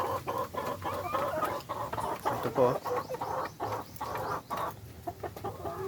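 Farm chickens clucking close by in a steady scatter of short calls, with a person speaking now and then over them.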